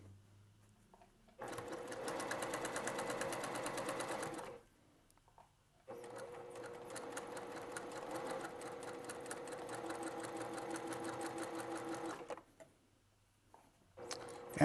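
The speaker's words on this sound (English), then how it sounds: "I'll sew that together right there." A sewing machine stitches quilt seams for a hexagon-pattern quilt in two runs, a short burst and then a longer stretch of rapid, even mechanical whirring and ticking, with brief pauses between. The sound is fairly quiet and close.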